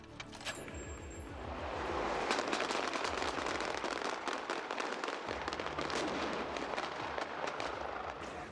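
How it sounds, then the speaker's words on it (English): A 20mm cannon blast in a film scene opens into a long, dense roar of crackling and rumbling explosion debris that stays loud and continuous throughout. "The sniper droid with the big 20mm cannon fires at him, which sends up an explosion."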